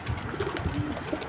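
Domestic pigeon giving soft, low coos, a brief murmuring burst close by.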